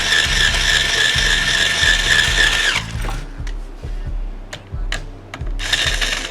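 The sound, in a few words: string winder turning bass guitar tuning peg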